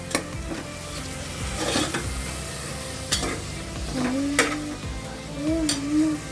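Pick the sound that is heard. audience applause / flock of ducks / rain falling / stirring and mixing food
stirring and mixing food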